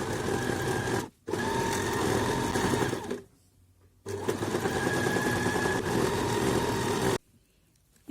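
Domestic sewing machine running a decorative stitch: a loud, steady, close mechanical whirring hum in two long runs, with a short stop near the start and a quiet pause between runs before the motor stops again.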